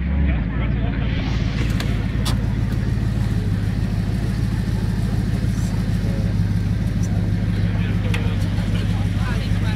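Audi R8 sports car in Austria accelerating hard at full throttle, its engine roaring steadily and close throughout, with people talking over the sound.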